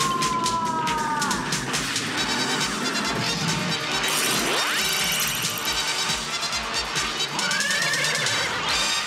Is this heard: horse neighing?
yes